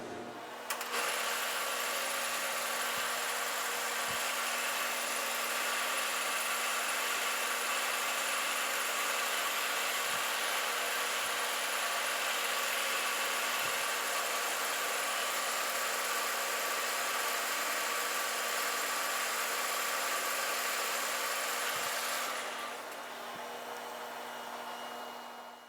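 A new cutting bit turns steadily against a metal part on a lathe during hydraulic wheel motor restoration, a continuous bright whining machining hiss with a low hum beneath, running unbroken for over twenty seconds before easing off near the end.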